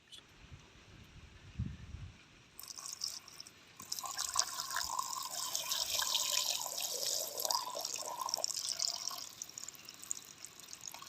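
Quail meat being rinsed in water for a village-style fry, with running tap water splashing and sloshing steadily at close range after a few faint handling sounds, no voices.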